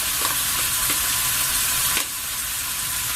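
Crushed garlic sizzling in hot oil in a cooking pot, a loud steady frying hiss with a few soft stirring knocks, easing slightly partway through.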